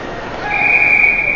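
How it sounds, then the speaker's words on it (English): Referee's whistle at a youth ice hockey game, one sustained shrill blast that starts partway through and rings loud and close over rink background noise. "And they whistled it when White touched it"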